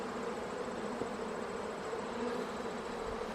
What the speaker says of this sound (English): Like a lot of bees.